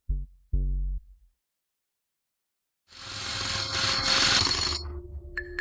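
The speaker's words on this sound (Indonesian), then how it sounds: "Mereka benar-benar mencoba menggunakan bor listrik." An electric drill bores into special-grade glass, a loud, harsh, sustained grinding whine that starts abruptly after a short silence and runs to the end, preceded by two brief low thuds.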